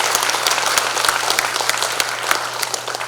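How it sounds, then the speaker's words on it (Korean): Applause from delegates at a Korean Democratic Party regional convention, honouring the party's advisers; steady, dense clapping from a hall audience, loud and continuous throughout with no talk over it. "다시 한번 우리 고문단 분들께 큰 박수 부탁드리겠습니다"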